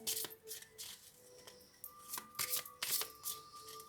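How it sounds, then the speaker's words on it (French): Tarot cards shuffled and drawn by hand: a quick run of crisp riffling and flicking snaps, close and fairly quiet, with no talking. "Voilà, donc on va tirer une petite carte."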